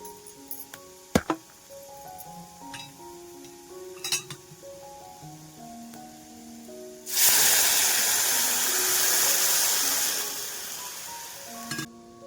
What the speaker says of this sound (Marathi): आता इथे मी गरम पाणी टाकून देणार आहे